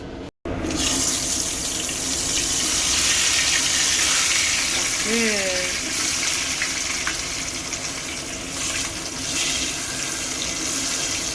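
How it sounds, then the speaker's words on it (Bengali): Potato pieces fry in hot oil with turmeric in a pan, giving a loud, continuous sizzling hiss that runs throughout with little variation. "এই আলুটা এখন ভাজবে এর মধ্যে হলুদ দিয়ে দিল এটাকে ভাজবে"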